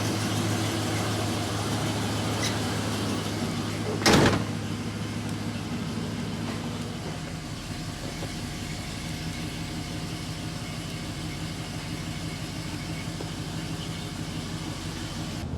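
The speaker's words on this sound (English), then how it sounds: "That's a cold start right there." A 1972 Impala engine fitted with Holley Sniper EFI running steadily just after a cold start, a continuous low rumbling idle with one brief louder clunk early on.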